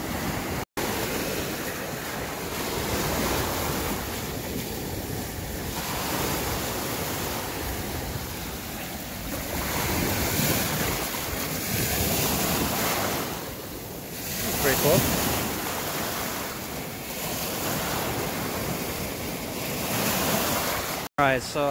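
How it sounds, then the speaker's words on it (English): Lake Michigan waves breaking and rolling onto a sandy beach, a continuous loud surf roar with rising and falling swells and strong wind buffeting the microphone throughout. "Don't recommend going out into the lake when the waves are like this at all."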